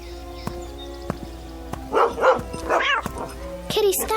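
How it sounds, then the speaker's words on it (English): A dog named Rowdy barks at a cat in a few sharp, close bursts, with yips and whimpers in between, over people talking in a radio drama scene. "Leave my kitty alone, you bad dog."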